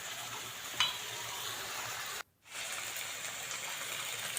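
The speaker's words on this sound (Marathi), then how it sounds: "पुन्हा एकदा छान हा मसाला परतून घेऊयात" Gentle sizzle of spice paste sautéing in a heavy-bottomed kadhai, steady and fairly quiet, with a brief pause in the middle.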